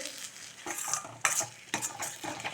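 Pirandai (adamant creeper) is stirred in a little oil in a pan for a chutney, with a soft sizzle and repeated quiet scrapes and clinks of a spatula close by.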